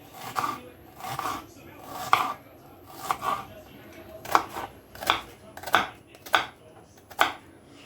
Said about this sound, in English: I'm just chopping up 2 onions which I'm going to fry in the pan